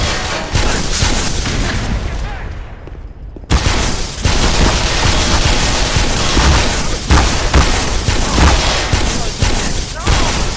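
A sniper-like weapon firing in Black Mesa: loud, precise shots and booms over a dense battle din, with a brief lull before the firing resumes in repeated cracks.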